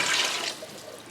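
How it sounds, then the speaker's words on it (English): Water poured into a pot of beans being prepared for canning, a brief bright rushing splash that starts strong and fades slightly. "I'm gonna add a bit more water because they need to boil."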